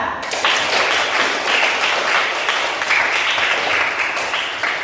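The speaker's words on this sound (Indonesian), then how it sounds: "Sekali lagi tepuk tangan buat kelompok 2." Classroom applause for a student group after its presentation in an Islamic religious education lesson, a steady wash of many hands clapping close by for about five seconds with no speech.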